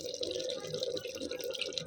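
Chicken water boils in a clay pot over a village cooking fire, giving a continuous close bubbling and sputtering with small irregular pops.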